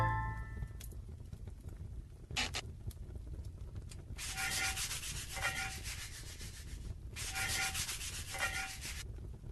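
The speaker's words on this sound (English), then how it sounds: "so let's give it a scrub." Brisk scrubbing of a greasy cooking pot comes in two long rasping bursts of quick back-and-forth strokes, close by, with quieter gaps and a few light knocks between.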